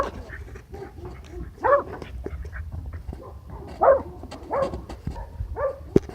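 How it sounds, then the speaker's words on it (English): Dogs bark in a video game, a series of short, moderately loud yaps and woofs repeating irregularly over a low background hum. "There's dogs in the back here."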